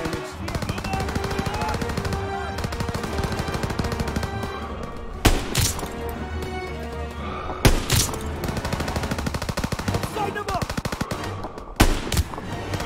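Sustained machine gun fire in the Call of Duty WWII video game, a dense continuous rattle of rapid bursts punctuated by a few louder explosive booms, with game voices shouting over the battle.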